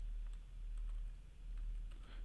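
Quiet, steady typing of code on a computer keyboard, with soft rapid key clicks continuing throughout and no voices.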